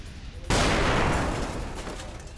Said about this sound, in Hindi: पश्चिम खान यूनिस धमाकों से दहल गया है।